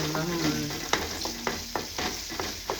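Onions frying in a pan for Kongu-style curd kuzhambu, a steady sizzle with repeated sharp stirring scrapes and clicks roughly every half second, close and moderately loud, with no talking.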